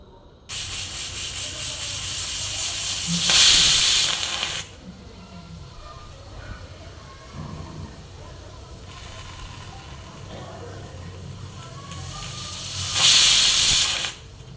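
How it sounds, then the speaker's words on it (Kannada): A pressure cooker of one-pot khara pongal vents steam in two loud hissing bursts, one early and one near the end, with a quieter steady hiss and low bubbling rumble between them. "ಕುಕ್ಕರ್ ಲಿಡ್ನ ಕ್ಲೋಸ್ ಮಾಡಿ ಒಂದು ತ್ರೀ ವಿಷಲ್ಸ್ ತೊಗೊಳ್ತೀನಿ ನಾನಿಲ್ಲಿ"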